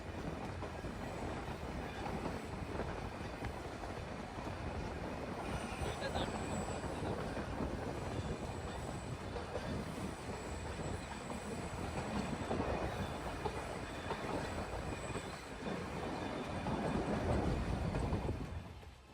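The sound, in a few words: Nilgiri toy train running through eucalyptus forest to Coonoor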